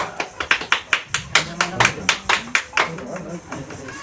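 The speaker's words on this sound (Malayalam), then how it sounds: "നല്ലൊരു കൈയടി കൊടുക്കും നമുക്ക് അവരുടെ അംഗീകാരം കൊടുക്കാൻ" An audience claps to welcome a guest in a run of quick, loud, fairly even claps that thins into scattered claps toward the end, close and strong.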